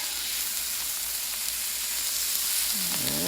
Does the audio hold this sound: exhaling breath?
no